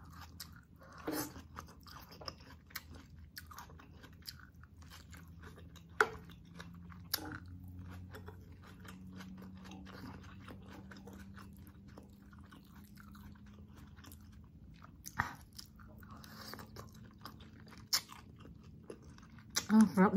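Adobong pusit, squid adobo, is chewed close to the mic at a Filipino food mukbang, with soft wet bites and crunches coming in irregular bursts over a quiet background and a low voice in places.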